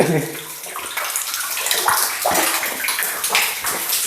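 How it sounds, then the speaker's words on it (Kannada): Holy water at Savanalu runs steadily inside a rock cave, a continuous splashing, gurgling flow that stays close and fairly loud throughout, with no voices over it. "ನೋಡಿ ಇಲ್ಲಿ ತೀರ್ಥ ಹರಿತಾ ಉಂಟು ಹರಿತಾ ಉಂಟು ನೋಡ್ಬೋದು ನೀರನ್ನು ನೀವು ನೋಡ್ಬೋದು"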